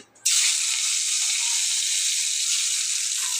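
Spiny gourd (kakrol) dropped into hot oil sets off a sudden loud, steady sizzle that keeps hissing evenly without a break.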